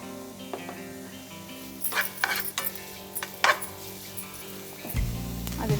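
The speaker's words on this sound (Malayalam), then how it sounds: "സവാള അത്യാവശ്യം ഒന്ന് നല്ലവണ്ണം വഴണ്ടി വരണം." Onions sautéing with salt in a pan, with stirring scrapes and soft sizzling, then a louder, steady sizzle near the end as the chopped onion is tossed around.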